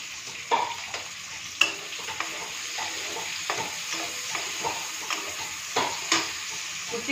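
Onion sizzles steadily in hot oil in a kadhai while making prawn curry, a continuous crackling fry punctuated by light clicks and scrapes of stirring.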